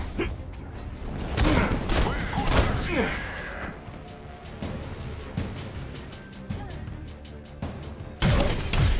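Bursts of rapid gunfire and heavy booming impacts in a Marvel's Avengers game scene, loud and chaotic, with a voice speaking between shots.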